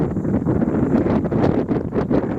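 Strong crosswind of about 22 miles an hour buffets the microphone outdoors at a rifle range, a loud continuous roar with gusty surges throughout and no voices.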